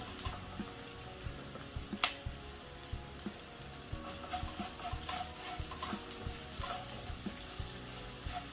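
Shallots with salt sautéing in a pan for Kerala rava upma: a continuous sizzle with frequent small stirring scrapes and clinks throughout.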